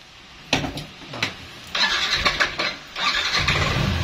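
A motor scooter engine, on a Yamaha NMAX or Aerox-type bike, cranks with a few short starter bursts before catching and running in a rough, uneven idle close by.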